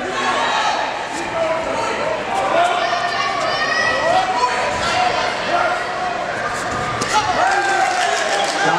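A spectator crowd at a sparring match in the finals of the 2013 US Capitol Classics, a steady roar of cheering and shouting with scattered thuds from the fighters, heard under close, continuous commentary.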